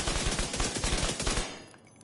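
Rapid automatic gunfire in the video game Division 2, loud and continuous for about a second and a half before quickly trailing off.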